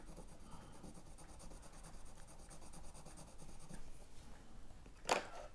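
An Einhorn watercolour pencil pressed hard on paper gives a faint, continuous scratchy rasp in close quarters, ending in a brief sharper scrape.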